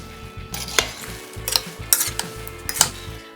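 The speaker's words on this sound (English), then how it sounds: "And then mix everything together." A spoon stirs cranberry sauce with a cinnamon stick and nutmeg in a pot, giving a rhythmic series of scraping, clinking strokes over a soft simmering sizzle, close and without talk.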